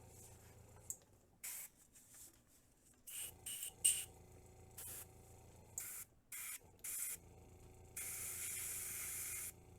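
Runny paint sprayed onto a scale model with salt-rusting and chipping weathering, heard as a series of short, close airbrush-like hisses of varying length, ending in one longer sustained burst, quiet between bursts.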